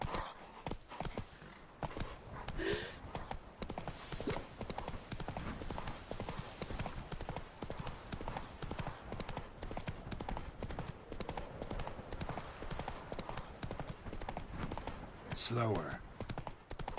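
Roach, a horse in The Witcher 3, trots with steady clip-clopping hooves throughout, under near-continuous game ambience, with a voice speaking briefly over it.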